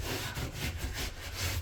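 Hand scrubbing of loose debris from a small damaged patch of drywall during a wall repair, heard as a steady, close rasping rub with no talk.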